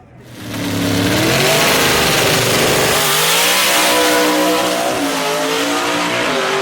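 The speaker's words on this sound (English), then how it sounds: "Kenneth Phillips in a tight drag race right there." Gasser drag cars launch side by side at Knoxville Dragway, engines swelling from quiet into a loud sustained roar with rising and falling revs as gears change, close and dominant with no talking.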